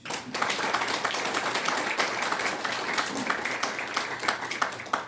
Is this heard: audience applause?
yes